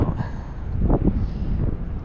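Wind blowing across open water during a mid-morning fishing outing, a steady low rumbling buffet against the microphone that swells and eases without pause.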